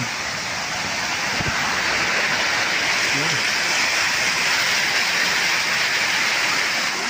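Water pours hard over a dam, a steady, loud, broadband roar that fills the whole stretch without letting up.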